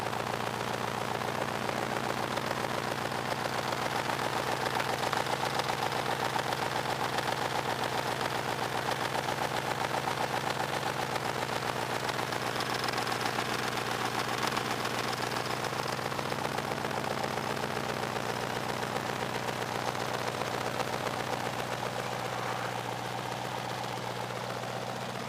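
A Rover V8 fitted in a Jeep idles steadily for the whole stretch, a constant low rumble with faint mechanical knocking heard up close and no speech.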